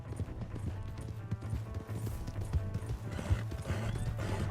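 A horse gallops in Red Dead Redemption 2, with fast rhythmic hoofbeats close by, a whinny, and game sounds around it.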